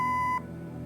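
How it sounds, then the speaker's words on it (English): A steady electronic tone rings from the answering machine in the Kathy Rain video game, a single clear beep of about 0.4 seconds that cuts off into quiet room hiss. "Leave a message after the beep."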